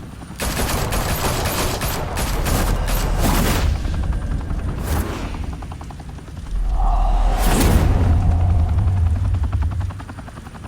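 Gunfire bursts in the Batman Telltale Series game, loud rattling volleys layered with a helicopter-like whir and booming swells, alone without talk.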